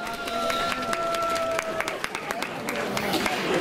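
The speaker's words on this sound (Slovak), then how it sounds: "A samozrejme, potlesk váš k tomu." Audience applause at a running race awards ceremony beside a water reservoir, steady clapping from a crowd throughout with a few sharp claps standing out, a faint tone in the background.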